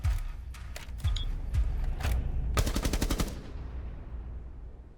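A gun in a video game fires close and loud during a recoil test: scattered single shots first, then a fast automatic burst of about ten rounds before the sound fades out.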